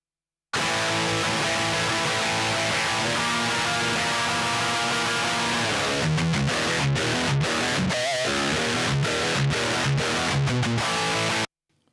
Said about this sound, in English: it's just a dry guitar track that went through Bias Desktop, and I disengaged the speaker